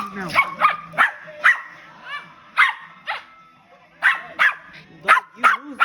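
Dogs play fighting, giving short sharp barks and yips in quick bursts with brief gaps, close and loud, mixed with whimpering tones and a few vocal sounds between them.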